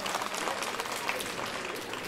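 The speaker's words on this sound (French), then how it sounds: "Merci de saluer par vos applaudissements l'équipe américaine US Postal Service." Applause from a crowd at a Criterium International cycling race in 1998, greeting the US Postal Service team; dense, steady clapping held at an even level for a couple of seconds, slightly distant.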